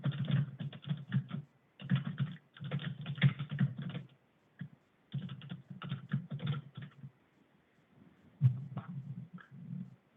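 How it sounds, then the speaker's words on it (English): Computer keyboard typing in Notepad during a remote session over a Black Box Emerald KVM link. Close, crisp keystrokes come in rapid bursts separated by short pauses, with no talking. "I can fire up Notepad and type away here"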